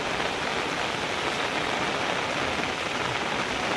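Heavy rain pours steadily in hilly countryside, a dense, even hiss of countless drops filling the whole stretch without pause, loud and close.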